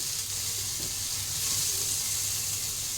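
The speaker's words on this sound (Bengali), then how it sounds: "একটু গোল্ডেন ব্রাউন করে ভেজে নেব কাঁঠাল বীজটাকে" Boiled jackfruit seeds fry with potatoes in oil, giving a steady, moderately loud sizzle with faint stirring beneath.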